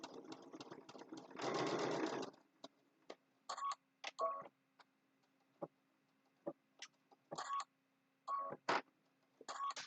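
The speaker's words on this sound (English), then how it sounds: "And when I get to the bottom, I'm going to do a little locking stitch." A sewing machine stitches a French seam on a zipper bag, starting with a steady close whir, then giving short separate bursts and single ticks as the stitching goes on, with no talk.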